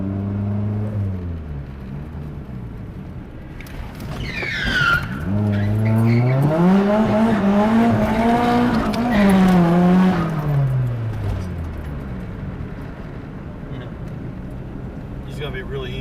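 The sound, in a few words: car tires squealing while drifting at night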